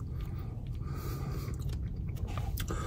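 Close, wet chewing of a McDonald's Double Cheesy Jalapeño Quarter Pounder with crispy bacon, jalapeños and cheese sauce, steady soft mastication with faint crunchy bits and no talking.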